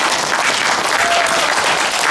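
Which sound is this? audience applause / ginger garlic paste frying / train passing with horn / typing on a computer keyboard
audience applause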